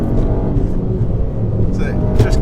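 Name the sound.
Stage 1 Ford Fiesta ST engine sound while driving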